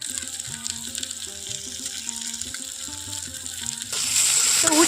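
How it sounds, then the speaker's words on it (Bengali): Bitter gourd and potato pieces fry with spices in a pan for karela aloo jhal, sizzling steadily under soft background music, with a louder, hissier burst of frying and stirring in the last second. "উচ্ছে আর আলুটা একটু ভালো করে আমি সবগুলো মশলার সঙ্গে নাড়াচাড়া করে একটু কষিয়ে নেব"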